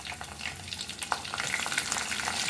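Green chillies sizzle in a pan of hot oil, a steady crackling fry with scattered pops and stirring scrapes, close and moderately loud.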